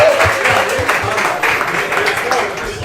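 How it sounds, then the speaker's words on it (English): Audience applause for a sectional champion boys lacrosse team, steady dense clapping throughout with crowd noise, under a commentator's voice at a live broadcast from a pizza restaurant. "one more time, a round of applause as they go on from here as sectional champs"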